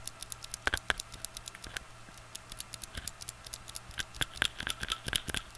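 Cherry MX Blue mechanical keyboard switches click sharply and close by in irregular, rapid bursts of light tapping, with crisp high-pitched clicks over a faint steady hum.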